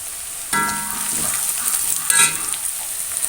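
Crushed chilli dropped into hot oil, bursting into a sudden loud sizzle that settles into steady frying, with a brief flare of crackling and stirring near the end.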